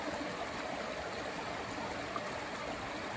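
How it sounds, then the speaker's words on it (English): Stream water runs over rocks in a steady, even rush that stays close and unbroken throughout, with no voices. "Just look at that water coming through."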